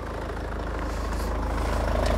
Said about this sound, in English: let's pop the bonnet, keep the engine on so you can have a little look and listen under there